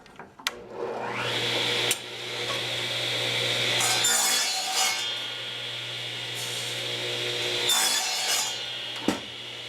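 A hand saw cutting a small scrap of wood in the workshop, with long, loud, close rasping strokes, several in a row and briefly paused between them, and no speech.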